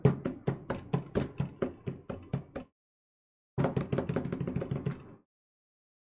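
Rapid bursts of clacking keystrokes from an old Unicomp buckling-spring keyboard, two separate runs of sharp, loud, evenly spaced clicks with a short silent gap between them, no voices.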